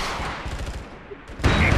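Explosive gunfire and artillery blasts in the MAG shooter video game, a dense rumbling barrage that swells into a loud, bright burst near the end.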